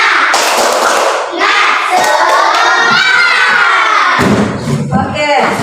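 A school class clapping a rhythmic spirit clap, children's hands striking in patterned bursts with thuds, mixed with loud children's voices chanting and shouting throughout, close and energetic.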